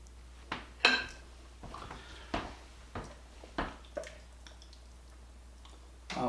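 Southwest bean soup is ladled into a bowl in a home kitchen, with a series of soft clinks and knocks of ladle against pot and bowl spaced about every half second, close and quiet.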